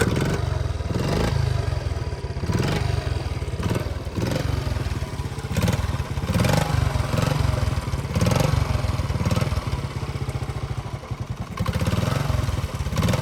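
A restored 1981 Honda Z50 mini motorcycle engine that won't idle, sputtering loud and close with uneven revs, repeated surging blips and mechanical clatter throughout.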